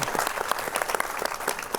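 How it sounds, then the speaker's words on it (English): A brief round of applause at a medical school alumni gathering, with scattered individual claps from a modest audience, close and lively but short. "a round of applause for the alumni"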